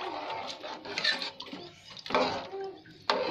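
A spoon scrapes and clinks against a cooking pot of salted Muradabadi biryani, hotel-style, in a few irregular metallic strokes with soft wet stirring between them, close and moderately quiet.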